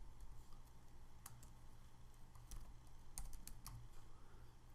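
Faint typing on a computer keyboard, with scattered individual key clicks over a low steady hum, as a file is renamed.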